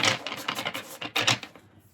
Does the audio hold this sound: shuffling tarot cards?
yes